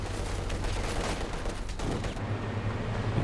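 In Company of Heroes 2, Airborne Guards unleash loud, continuous gunfire on grenadiers, a dense roar of automatic shots over a low battlefield rumble.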